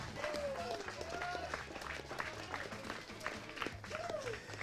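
Steady crowd applause fills the space, a dense wash of clapping from many hands, with a voice talking over it at moments.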